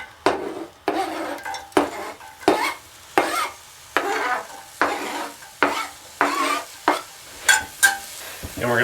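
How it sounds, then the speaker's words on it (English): Jalapenos hit hot manteca in a pan, sizzling and frying with repeated bursts of stirring and utensil scrapes against the pan at a steady rhythm, close and fairly loud, no voices. "Manteca heating up, we're going to add those jalapenos to the pan."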